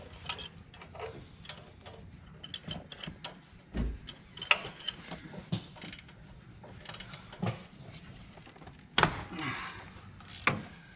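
A wrench working on a stuck bolt on a 6.0 diesel turbo, with scattered metallic clicks, ratcheting and knocks, a few louder clanks near the end, fairly close and without talk.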